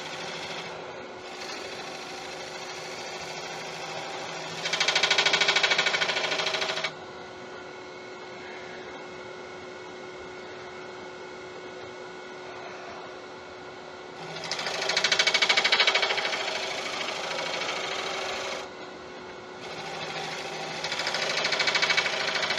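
A gouge rides the bevel along a cherry wood bowl spinning on a wood lathe, producing steady cutting hiss in several separate passes over a constant motor hum.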